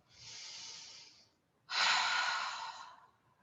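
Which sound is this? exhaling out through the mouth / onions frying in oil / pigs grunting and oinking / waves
exhaling out through the mouth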